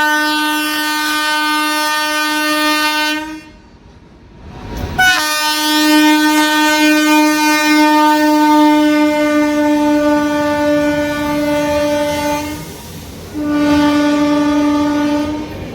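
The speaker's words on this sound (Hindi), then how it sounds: "बाकी सामने से भी एक और कोई तो ट्रेन आ रही है।" A passing train sounds a long, loud, steady horn, which cuts off briefly and then resumes, heard close from aboard the Jhelum Express over continuous rail rumble.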